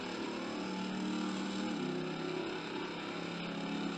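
A car engine revs steadily and accelerates in the Car Mechanic Simulator video game, a loud constant drone whose pitch climbs slightly midway, with no one speaking.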